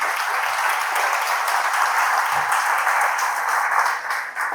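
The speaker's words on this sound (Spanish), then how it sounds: "Denle un aplauso al Señor." Congregation applauding during a church service, a broad, sustained roar of clapping that stays level and full, dipping slightly only at the very end.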